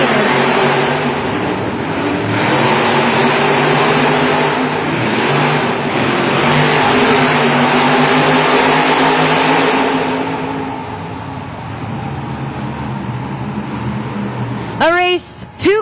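Two 12,000-pound Monster Jam trucks racing side by side in an indoor arena, a loud sustained engine roar with revving swells under an announcer's talk, fading near the end before a brief burst of whining noise.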